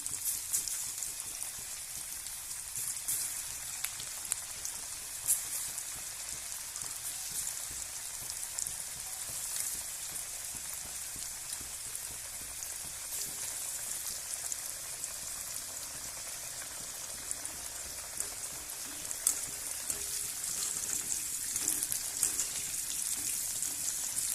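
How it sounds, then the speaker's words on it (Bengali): Sweet potatoes frying in hot oil, a steady dense crackling sizzle that sounds much like rain and holds evenly for the whole stretch, with no talk. "তেলটা গরম হয়ে গেছে। এবার এই যে শাক আলুগুলো দিয়ে দেবো।"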